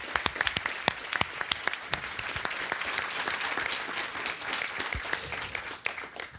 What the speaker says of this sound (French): on peut applaudir Ségolène, merci.